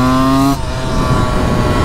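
Stock Honda CR125 two-stroke dirt bike at full throttle near top speed, a loud buzzing engine note that drops off abruptly into heavy wind roar.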